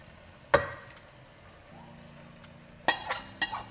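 Onion is tipped into chicken adobo frying in a pan. Soft sizzling runs under a few sharp clinks and knocks of utensils against the pan, and a low steady hum sits in the background.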